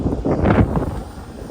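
Wind gusting outdoors beside a condenser unit, a brief rumbling buffet against the microphone that swells and then eases.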